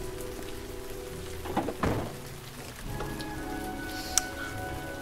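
Steady rain pouring in the video game Heavy Rain, a dense close hiss of drops hitting surfaces that continues throughout, with a heavier splashing swell midway and one sharp knock near the end, no voices.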